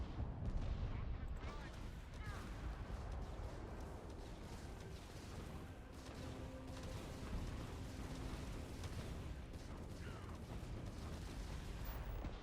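Spaceship weapons firing during a space battle in Starfield, a steady low rumbling stream of shots and engine roar held at fairly low level throughout, with a voice occasionally under it.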